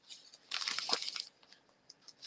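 Close crinkling and crackling of a plastic bag being handled comes in short irregular bursts, loudest in one busy stretch, then trails off into faint scattered rustles.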